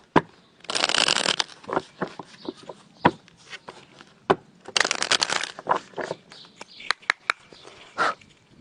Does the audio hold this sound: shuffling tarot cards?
yes